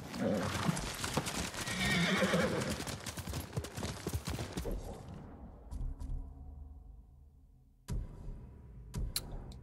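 Horses whinny and hooves clatter in the samurai game Ghost of Tsushima, loud busy movement and neighing at first, thinning out to scattered sounds, with a brief silence before a few sharp final bursts.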